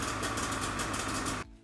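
Polaris Matryx snowmobile engine idling with its stock exhaust silencer can: a dense, steady, close-up mechanical rumble that cuts off abruptly near the end.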